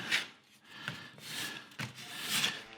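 Scraping on a wooden chalkboard project, a tool rasping across the surface in several rough strokes with short pauses between, close and fairly quiet.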